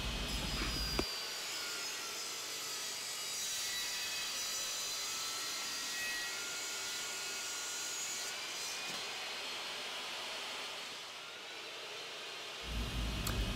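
A SawStop Jobsite Pro table saw cuts 2x fir stock: the motor whines steadily at a fairly low level while the blade hisses through the wood, and the cut lasts about twelve seconds.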